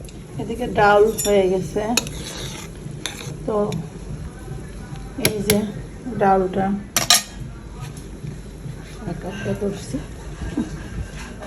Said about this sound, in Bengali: তেলের কড়াইটা দিয়ে দিচ্ছি